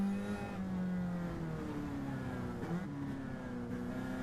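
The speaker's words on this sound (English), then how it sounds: "you can really hear Monkey is using the gear shifter more than the brakes here on this car" A race car engine on a wet racetrack drones and revs at close range, its pitch stepping down at each gear shift, a continuous, fairly quiet whine with no talk.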